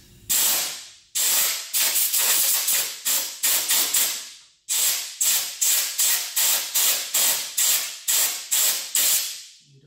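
Compressed air sprayed in repeated sharp bursts around a brake valve, loud close hissing blasts in a quick irregular rhythm, each burst fading before the next, with no talk.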